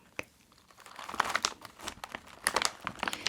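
Soft, close crinkling of Japanese snack packaging, with irregular crackles and rustles that grow busier partway through, heard alone and fairly quiet.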